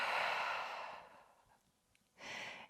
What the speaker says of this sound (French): Grande respiration. Sur l'expiration, plie un peu plus.